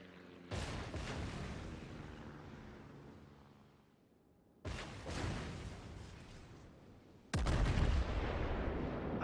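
Heavy naval gunfire in World of Warships: three loud booming salvos from battleships such as the Izumo and Dreadnought, each a sharp blast followed by a long rumbling decay, with the last salvo loudest and nearest.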